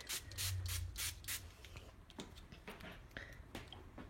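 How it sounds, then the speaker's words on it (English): A hand spray bottle of cleaning solution mists a kitchen work surface where food is chopped, several short loud hissing bursts close up in a quick series, followed by quieter rubbing and handling noises. "and spray everything,"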